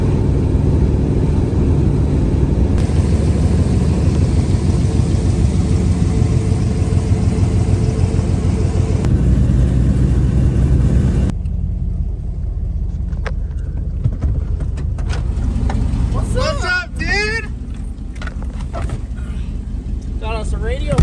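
A ratty 1969 Dodge Charger is heard from inside while driving on the road, with a loud, steady engine and road rumble. The rumble eases later on, and brief voices come in near the end.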